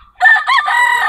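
A Sweater gamefowl rooster crows once, close and loud, in a full cock-a-doodle-doo that rises, breaks briefly, then holds a long sustained final note.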